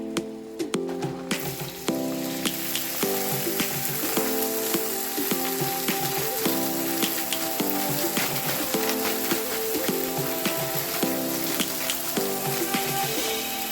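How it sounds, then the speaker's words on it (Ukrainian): A pan heated for vegetables sizzles steadily on the stove, a constant hissing crackle heard under louder background music with a repeating melody. "І розігрівається сковорідка на овочі до рису."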